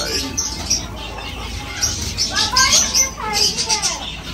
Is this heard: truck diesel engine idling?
no